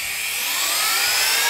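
A rotary hammer drills into a surface at low speed. A short, loud, rising high-pitched motor whine carries through under a rough low rattle for about a second and a half.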